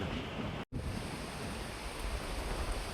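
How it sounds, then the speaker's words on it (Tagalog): Big storm waves churn and roar in a steady, dense wash of surf with wind, loud and unbroken apart from one brief cut near the start, and no voices. "Nakakakilabot na alon."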